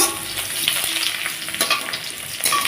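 Chopped onion hits hot spice tempering for a Bengali rohu fish curry with potato and aubergine, giving a steady close sizzle and crackle with occasional stirring scrapes, no voices.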